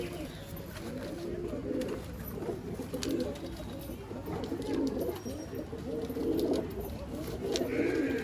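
Madrasi breeding-pair pigeons in a loft coo repeatedly in low, throaty bursts, several birds overlapping in an uneven rhythm close by, with soft shuffling and faint human voices in the background.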